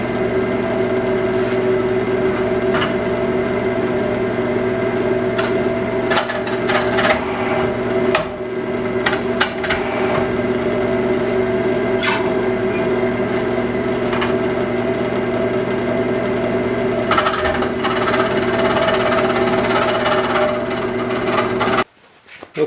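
Walnut and holly blank for a coin cup being shaped on a wood lathe, a steady tonal motor hum with scraping and cutting noise from the gouge, interrupted by sharp knocks and bursts before the motor cuts off near the end.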